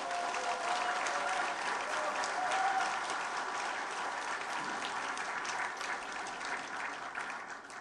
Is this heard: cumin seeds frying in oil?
no